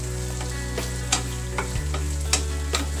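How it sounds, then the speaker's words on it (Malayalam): Finger chips and egg frying in a pan, stirred with repeated scraping strokes over a steady sizzle and a low hum from the stove, with no voices. "ഇങ്ങനെ ഇളക്കി കൊടുക്കുക"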